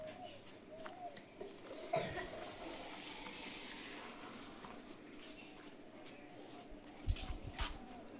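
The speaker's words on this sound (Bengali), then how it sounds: "তো দেখো আমার মেয়ে জল দিচ্ছে" Water from a mug splashes and trickles onto a potted gerbera plant, a soft steady wash of pouring sound with a brief louder splash near the end, close by amid faint background noise.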